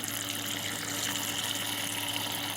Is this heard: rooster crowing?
no